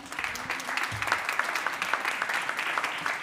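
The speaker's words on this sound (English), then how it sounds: "round of applause to the Secretariat for an incredible session" A round of applause for the Secretariat closes a session at a retreat, with many hands clapping steadily and evenly, a few sharper individual claps standing out.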